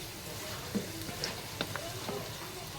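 Onions frying in a pan for noodles, giving a soft, steady sizzle with occasional light clicks and stirring taps, heard up close under background noise.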